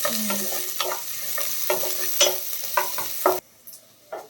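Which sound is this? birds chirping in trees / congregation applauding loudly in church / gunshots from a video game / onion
onion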